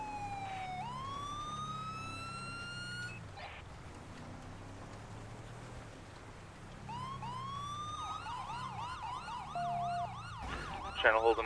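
Video game police sirens during a Blaine County patrol, wailing sweeps that fade out, then return as rapid yelping cycles, with a brief steady tone and a loud burst at the end.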